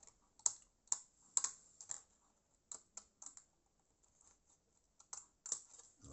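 Scissors snipping through card used for model railway ballast, sounding as a series of sharp, close cuts in uneven bursts separated by short pauses, with no talking.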